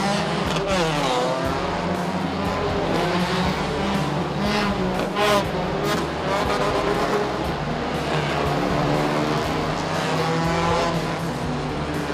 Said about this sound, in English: I just love it every single time I hear all these Toyota Vioses